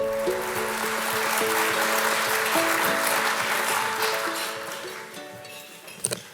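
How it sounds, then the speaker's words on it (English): Audience applause welcomes the emcee at an evening event, a steady, dense clapping from a large crowd under sustained musical tones, fading toward the end before a couple of sharp knocks. "Please welcome your Emcee for the evening, Chris Farrell."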